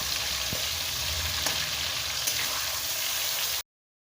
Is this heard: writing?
no